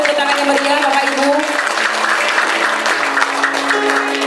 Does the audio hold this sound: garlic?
no